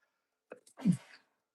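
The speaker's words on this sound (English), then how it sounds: "I sneeze so much in this room" A single short sneeze, close and fairly quiet, with a sharp intake followed by a burst that trails off; no talking.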